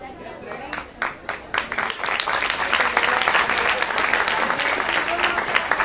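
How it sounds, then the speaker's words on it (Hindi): Applause for students from Joshimath at a science festival begins with a few scattered claps, then swells into dense, loud clapping from the crowd that carries on steadily, with some voices mixed in. "जोशीमठ के इन छात्रों का उत्साहवर्धन कीजिए जोरदार तालियों से।"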